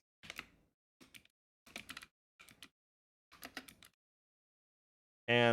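Short bursts of keystrokes on a computer keyboard while entering a username during an Arch Linux install, five quiet clusters of clicks separated by pauses, then a sudden loud tonal sound at the end.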